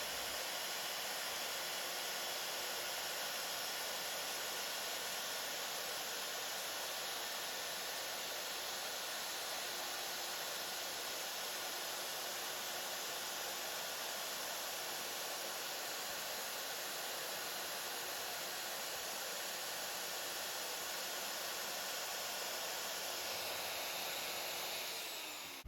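A Shaper Origin handheld CNC router cutting in auto mode, a loud continuous high-pitched whine and rushing hiss that holds steady and close throughout.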